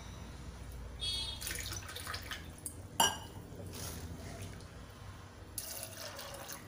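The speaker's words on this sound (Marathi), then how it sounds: "2 ग्लास हे मी काचेचे पाणी घातलेलं आहे।" Two glasses of water poured into a pressure cooker holding dried peas, salt and turmeric, giving a soft splashing stream in several bursts with one sharp metallic knock midway, moderately quiet and without speech.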